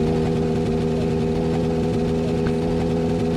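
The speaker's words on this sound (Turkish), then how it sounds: "Traktör mü araba mı o ne?" A tractor engine rumbles steadily in a car horror video game, a loud, continuous low mechanical drone with a throbbing idle rhythm and no talk.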